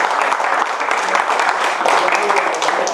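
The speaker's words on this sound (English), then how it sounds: "we should all give Yves and his team a round of applause" Conference audience giving a development team a round of applause, a dense, steady burst of clapping across the hall with faint voices mixed in.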